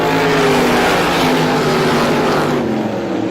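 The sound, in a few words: Super Modified race cars racing on speedway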